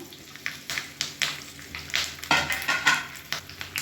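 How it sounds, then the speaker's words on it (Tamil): Black pepper and cumin fry in hot oil with curry leaves and ginger, crackling and sizzling steadily under repeated bursts of stirring, close and moderately loud. "மிளகு சீரகம் பார்த்திங்கன்னா நல்லா பொரியணும்"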